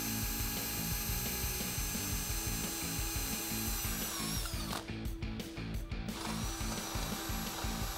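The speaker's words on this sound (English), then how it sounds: "So we can go ahead and drill that pilot hole." A power drill bores a pilot hole with an 11/64 inch bit into a Jeep Wrangler JK during a lift kit install, its motor whining steadily up close, briefly pausing and bogging midway before spinning on.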